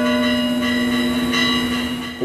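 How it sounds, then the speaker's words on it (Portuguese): A bell rings at a small touring circus in central-western Minas Gerais, Brazil, sustaining a steady bright metallic tone with rich ringing overtones throughout, loud and alone with no talking. "O sino soa."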